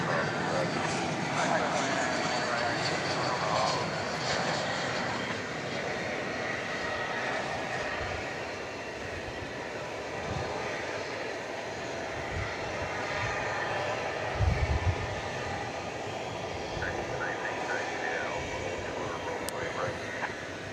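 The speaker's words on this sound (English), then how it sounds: "A flight coming in from Los Angeles. This is a Spirit Airbus A320." A Spirit Airbus A320 landing at DFW airport on a Wednesday morning, its steady jet engine roar filling the whole stretch at constant loudness, with a brief louder thump near the middle.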